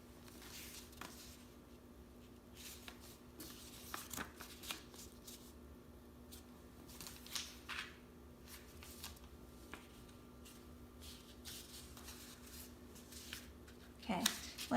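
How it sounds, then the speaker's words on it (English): Origami paper being folded and creased by hand, with soft crackling and rustling in short irregular bursts, close and faint, and a few quiet taps between them. "I'm going to crease that paper down"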